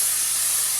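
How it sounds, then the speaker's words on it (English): Cooking spray hisses steadily from an aerosol can onto muffin tins while making churro muffins, one continuous close, loud spray with no pauses and no talking. "So now that the batter is made, I want to spray my muffin tins."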